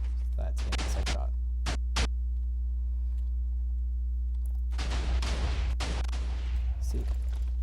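TNT cannon shots in Minecraft sound as a handful of sharp, loud blasts, a few early and a denser cluster later, over a constant low hum with a voice speaking between them.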